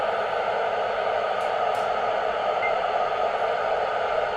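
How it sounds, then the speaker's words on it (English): Steady broadband hiss from a VHF/UHF radio receiver with its squelch held open, tuned for satellite work on an HF fan dipole antenna, continuous and even throughout with no voices. "And the squelch has been kept open, that is the hissing noise you are hearing."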